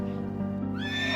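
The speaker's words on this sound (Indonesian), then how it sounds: "Saya pernah beberapa kali menghadapi kuda yang cukup gelisah seperti ini, Pak." A restless horse neighs once, a loud close whinny rising over a steady background hum with no talk.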